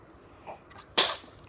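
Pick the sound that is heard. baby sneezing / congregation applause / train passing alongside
baby sneezing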